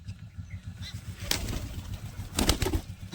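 Pigeons nearby give low, soft cooing with two sudden bursts of wing flapping, the second longer and louder.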